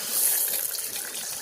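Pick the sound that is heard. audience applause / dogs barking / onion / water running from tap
water running from tap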